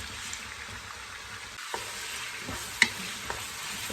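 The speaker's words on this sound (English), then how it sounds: "You're gonna let the pork cook, let sizzle a little bit." Pork frying in oil in a pot for stir-fried rice noodles, a steady close sizzle with occasional sharp pops and clicks of stirring, one louder clack near the end.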